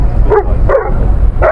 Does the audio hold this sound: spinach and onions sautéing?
no